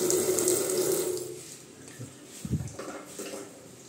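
Water gushes from a tap in a two-storey terrace house whose plumbing runs outside the wall, with good pressure: a steady close rush for about a second and a half, then it cuts off, leaving faint clinks and a quiet room.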